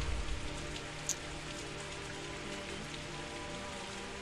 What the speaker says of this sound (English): Ooh, the rain is lovely.